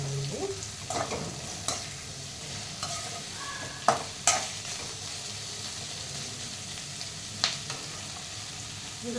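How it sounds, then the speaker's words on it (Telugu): Paneer cubes with carrot and capsicum fry in a pan for a vegetable fried rice, giving a steady sizzle broken by sharp scrapes and clacks of stirring. No one speaks. "ఇప్పుడు మనం ఇందులోకి ఈ పన్నీర్ కూడా వేసుకున్నాం. పన్నీర్ కూడా వీటితో పాటు ఫ్రై అవ్వాలండి."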